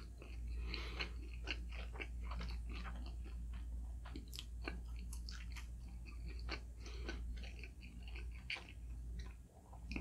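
Someone chews frozen pancake up close, with soft repeated bites and crunchy, moist mastication sounds in an irregular rhythm over a quiet low hum.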